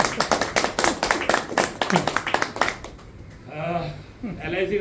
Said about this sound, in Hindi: एक बार ताली बजाओ तो बताओ